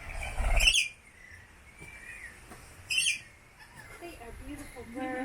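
Birds call in St. Thomas with two loud, shrill squawking bursts a few seconds apart, close by, while voices murmur quietly in between.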